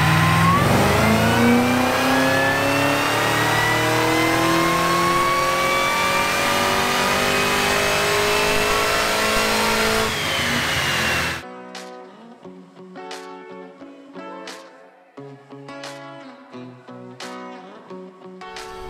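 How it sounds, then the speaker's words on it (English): A bolt-on 2009 Cadillac CTS-V with long-tube headers and an aftermarket intake runs on a dyno, its loud engine climbing steadily in pitch through a long pull, then cutting off to a series of short, sharp revs and pops. "Today on the dyno, we have Phil's 2009 CTS-V."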